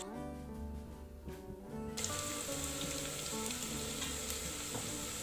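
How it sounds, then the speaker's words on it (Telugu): Potato pieces frying with green chilli in a pan sizzle loudly and continuously up close, with stirring scrapes, while soft background music plays underneath and the frying grows brighter partway through. "బంగాళదుంప ముక్కలను కూడా వేసుకుని బాగా వేగనివ్వాలి. కదుపుతూ బాగా వేయించుకోవాలి."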